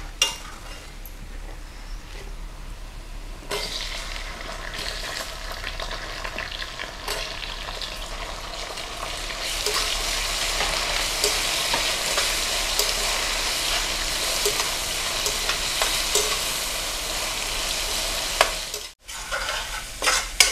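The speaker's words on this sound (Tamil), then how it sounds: "இப்போ தக்காளியை போட்டுருவோம்." Tomatoes frying with browned onions in a pan, a steady, busy sizzle with stirring and scraping that grows louder after a few seconds and continues without talk, cutting off briefly near the end.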